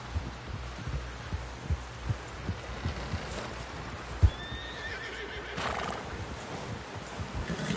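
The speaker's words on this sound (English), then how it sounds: "Someone help John down off this horse." A horse whinnies in Red Dead Redemption 2 amid steady hoof clip-clops and background bustle, with a sharp thud partway through; no one speaks.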